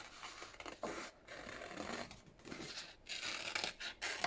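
Scissors cut out a paper toadstool picture for a craft junk journal, giving close, continuous rasping snips with brief pauses between strokes.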